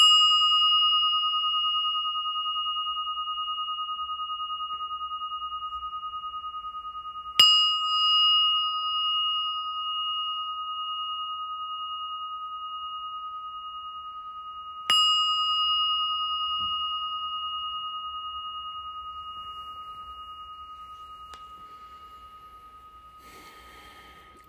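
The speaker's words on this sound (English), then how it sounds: "Now you can hear the ding, the bell, and slowly come out of this meditation." Three struck meditation bell dings, spaced about seven seconds apart, each a clear sustained ring that decays slowly in a quiet room, with faint breathing and rustling between the strikes.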